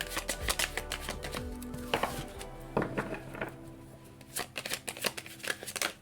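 Tarot cards shuffled and drawn by hand, a run of crisp riffling flutters and sharp slaps and taps spread over several seconds, close and fairly quiet with no voices.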